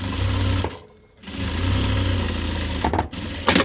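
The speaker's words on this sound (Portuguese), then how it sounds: "Passo a costura mais pra dentro." Sewing machine running in steady bursts as it stitches a fabric lining for a double fabric scissor holder, with a brief pause near the middle and a short stop and restart toward the end.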